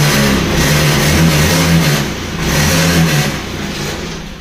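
A Honda Beat scooter engine, recently fixed of misfiring, revs up and down in two steady surges, loud and close with a continuous mid-range drone and no talking.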